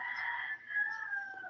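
A rooster crows faintly from a distance in one drawn-out call, with no talk over it.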